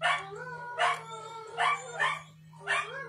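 Several dogs barking and howling in loud bursts, a few seconds apart, close by, over a steady low electrical hum.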